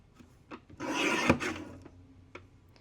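Cardstock being trimmed on a paper trimmer during card making, a sustained rasping slide of about half a second with fainter scraping touches before and after, close and alone.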